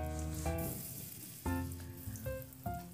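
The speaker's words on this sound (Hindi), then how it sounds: "जो पीसेस हम लोगों ने बैटर में डिप करके रखे थे अंडे का, वो हम फ्राई करने के लिए छोड़ देंगे" Batter-dipped egg pieces drop into hot refined oil over a medium flame, giving a loud burst of sizzling that settles into steady crackling with a few fresh bursts as more pieces go in.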